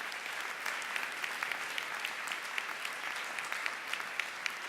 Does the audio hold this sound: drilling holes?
no